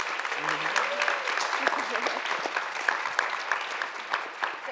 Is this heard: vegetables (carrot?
no